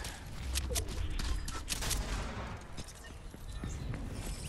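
Rapid video-game gunfire crackles in quick bursts of sharp shots, loudest early and thinning out later, with faint footsteps and background game noise mixed underneath.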